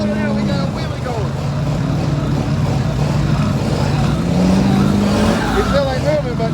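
A truck revs hard in deep mud, its engine climbing and straining in loud, rising surges amid a noisy crowd, with people talking and shouting close by over the roar.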